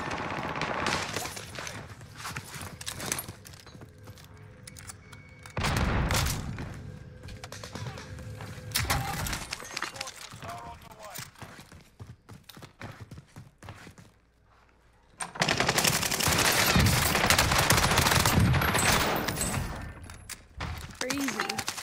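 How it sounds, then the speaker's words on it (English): Rapid bursts of video game gunfire shoot through a wall, crackling in dense volleys with quieter gaps between and a loud, close flurry near the end. "Getting shot through the wall."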